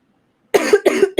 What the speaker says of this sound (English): Let me get some water so I can stop coughing.